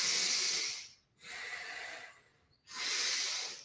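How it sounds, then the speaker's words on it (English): Slow, deep breaths during a breathwork exercise, with long airy exhales and inhales in a steady rhythm of three breaths separated by short pauses, close and clear with no talking. "inhale, stretch out that side body, exhale on the way back down"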